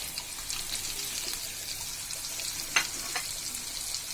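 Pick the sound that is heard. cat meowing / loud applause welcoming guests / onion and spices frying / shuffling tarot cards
onion and spices frying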